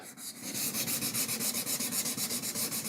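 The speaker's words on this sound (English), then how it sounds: "So just sand right on over the tape." Rhythmic back-and-forth sanding over tape on a guitar's center seam crack repair, about fifteen even scratchy strokes in steady succession, close and clear with no voices.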